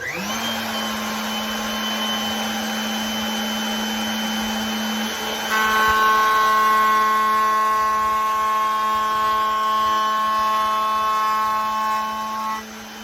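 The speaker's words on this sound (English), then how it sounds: "You can see I just have maybe a little bit more than a 1/16 to remove with the router" A router trims barely more than a sixteenth of an inch from the edge of a trunk tool-kit piece that is later welded. It gives a loud, steady motor whine alone, and the pitch shifts partway through.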